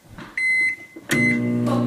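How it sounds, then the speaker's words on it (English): A microwave oven beeps close by as its time is set: a short tone, then a second one, then a longer tone, with no talking. "And then you just want to pop it back in the microwave again."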